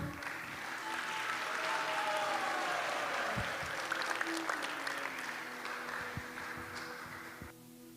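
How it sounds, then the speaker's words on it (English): A crowd at the ISKCON Toronto Sunday feast gives steady, full applause after a drama club performance. It stays dense and even for about seven seconds, then tapers off, with faint voices underneath. "let's give another big round of applause to that wonderful performance by the ISKCON Toronto Drama Club"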